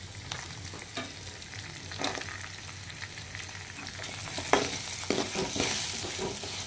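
Urad dal and grated coconut frying and being stirred in a pan for kothamalli chutney, a steady low sizzle with scraping stir strokes at irregular intervals, close and fairly quiet, no talking.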